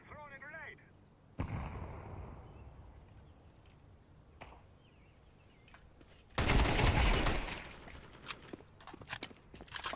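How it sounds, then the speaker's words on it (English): Grenade blast in the game Counter-Strike 2 during a tournament match, a sudden loud burst with a sharp transient that lingers a few seconds, set amid scattered gunfire and other game effects. "I'm throwing a grenade."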